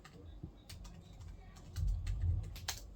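A keyboard connected to a phone running Samsung DeX is typed on at close range, heard as a quick run of soft key clicks over a low, steady background hum.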